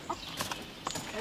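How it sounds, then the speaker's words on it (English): Rhode Island Red cross White Wyandotte pullets at point of lay, delivered to a backyard poultry keeper, give a few short, soft clucks close by in a brief, quiet moment. "At her billet, Annie, helped by Joyce, takes delivery of 6 pullets. They're Rhode Island Red cross White Wyandotte and are at the point of lay."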